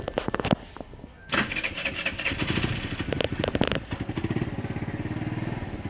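Rented automatic motorbike with a centrifugal clutch in Vietnam, started up nearby with a burst of cranking, then settling into a loud, steady, throbbing engine run.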